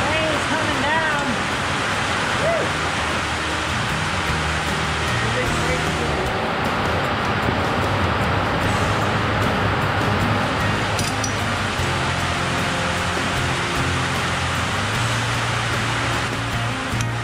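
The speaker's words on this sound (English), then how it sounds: "And that rain is coming down." Rain pours down steadily outside a garage as a riding mower engine is being removed, a dense, even hiss throughout with faint tonal hums beneath.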